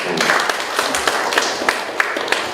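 An audience at a forum claps in applause, a run of crisp, evenly spaced hand claps carrying through a hall, steady and moderately loud across the stretch.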